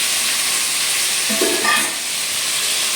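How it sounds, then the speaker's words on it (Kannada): Finely chopped raw mango fries in a pan on full heat, making a steady, close sizzle with a brief stirring scrape partway through and no talking. "ಇವಾಗ ಇದರಲ್ಲಿ ಎಲ್ಲ ಸಣ್ಣಗೆ ಕಟ್ ಮಾಡಿರುವಂಥ ಮಾವಿನಕಾಯಿ ಎಲ್ಲ ಹಾಕಬೇಕು."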